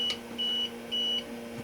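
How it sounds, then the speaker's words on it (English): An APC 1500 UPS sounding its power-loss warning: three steady high-pitched electronic beeps, each lasting about a quarter second, repeating at a regular pace over a low electrical hum. "And it will constantly beep until you stop it."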